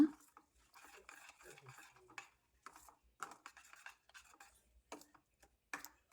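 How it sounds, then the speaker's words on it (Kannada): A spoon scrapes and clinks around a pan while onion and dry chilli chutney with turmeric is stirred, short uneven strokes with brief pauses between them, close and clear. "ಚಟ್ನಿನ ಚೆನ್ನಾಗಿ ಒಗ್ಗರಣೆಗೆಲ್ಲ ಮಿಕ್ಸ್ ಆಗೋ ರೀತಿ ಕಲಿಸ್ಕೊಳ್ಳೋಣ"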